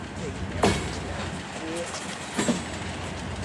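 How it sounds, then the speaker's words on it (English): A train rolls along rails beside the Great River Road near Memphis, with a low rumble and a couple of sharp wheel clacks. People talk over the steady rolling noise. "Which train's moving, the top one or the bottom one?"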